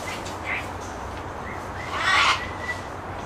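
Exotic parrots at a bird sanctuary give a few scattered, squawky calls, with one louder, harsher burst near the end over a steady outdoor background.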